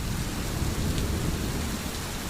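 Heavy rain falls continuously, a dense, loud hiss and patter with no pauses and no voices.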